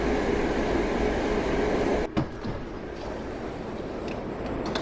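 A Moscow metro train runs through the quiet Vorobyovy Gory station, a steady loud rumble that drops sharply with a brief clatter midway, then settles into a lower, continuous roar with no talk.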